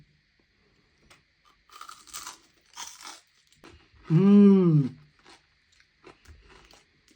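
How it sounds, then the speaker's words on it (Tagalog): Crispy Filipino bagnet, fried pork belly, crunches in a few close bites and chews, followed by a drawn-out appreciative hum from the eater. "Tikman natin niya kung malutong."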